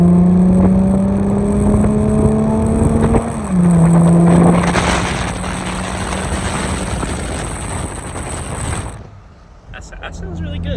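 A Ford Mustang fitted with a new loud aftermarket exhaust drones steadily as it revs and accelerates along a higher-speed road, its pitch climbing and then dropping between gears before it eases off near the end, heard loud from nearby.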